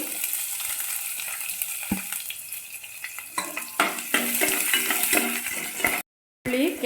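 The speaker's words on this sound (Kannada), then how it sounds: "ಒಂದು ಸಣ್ಣ ಈರುಳ್ಳಿಯನ್ನು ಏನು ಹೆಂಚ್ಕೊಂಡು ಇಟ್ಕೊಂಡಿದ್ವಲ್ಲ ಅದನ್ನು ಹಾಕೋಬೇಕು" Chopped onions with peanuts frying in hot oil in a pan for curry leaf rice, a continuous close crackling sizzle with stirring scrapes and clinks, dropping out briefly near the end.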